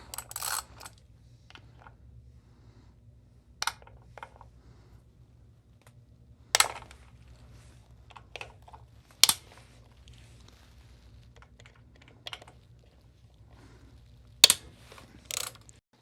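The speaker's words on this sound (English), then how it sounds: "I'm going to go ahead and remove the bolts for the inspection cover here." Sparse, sharp metallic clicks and short ratcheting bursts from a ratchet removing T27 inspection cover bolts on a Harley-Davidson Road Glide, spaced irregularly over a low steady background hum with no talking.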